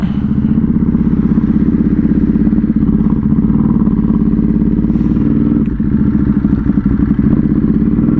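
A Ducati Hypermotard motorcycle engine on a test ride drones loudly and steadily up close, its throbbing, clattery exhaust note holding a fairly even pitch throughout, with slight revving shifts.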